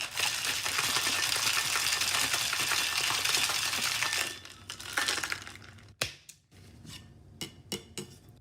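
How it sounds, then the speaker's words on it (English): A cocktail with egg white shaken hard in a metal shaker: about four seconds of continuous dense rattling and sloshing, close and loud, then stopping and giving way to a few separate clinks and knocks. "You want to give it a good maybe 30 shakes or so, and with the egg white in it, especially you want to shake it a lot"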